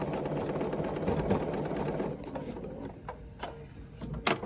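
A Bernina sewing machine stitches freezer paper applique with a steady fast mechanical whir and rhythmic needle clatter at close range, slowing into a few separate clicks and taps toward the end.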